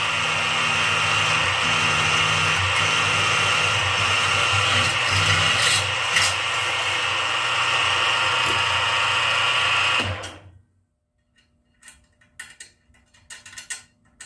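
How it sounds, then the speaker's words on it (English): A drill grinds steadily through metal for about ten seconds, then stops abruptly, leaving a few faint clicks and knocks. "And here we are drilling the holes."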